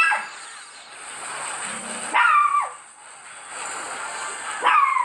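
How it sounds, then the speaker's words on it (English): A small dog named Coco yaps and barks in repeated bursts at close range indoors, sharp high yips rising over a steady background hum, with brief quieter gaps between volleys. "Hear me dog yapping away."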